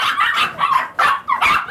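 Many puppies and dogs in a kennel building bark and yip in overlapping bursts, loud and close, with whimpering mixed between the barks.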